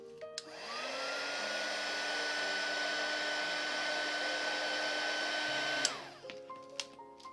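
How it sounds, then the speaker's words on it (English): A hot air blower runs steadily for about six seconds, heating a plastic straw so it can stretch over a resin pen body, then cuts off with a falling whine, leaving faint handling clicks. "we're just going to heat up the straw a bit so that it can go over"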